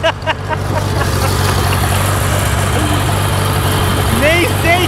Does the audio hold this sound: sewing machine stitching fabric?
no